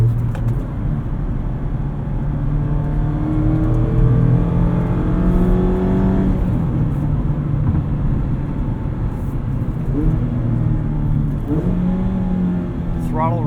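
2019 Mazda MX-5 Miata RF Grand Touring engine pulls steadily from inside the cabin, its note climbing and dropping through several gear changes with road and wind roar underneath.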